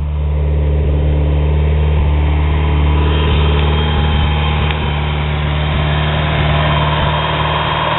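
A turbocharged Eagle Talon TSi engine idles steadily just after startup, running a little rich, a loud continuous low rumble heard close up with a constant drone and no talking.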